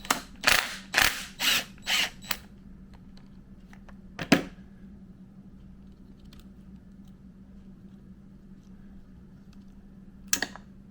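Mechanical clicks and a short ratcheting sequence come from work on a KTM 380 EXC two-stroke engine during kickstart gear removal, several quick clicks up front, then isolated metallic taps in a quiet workshop.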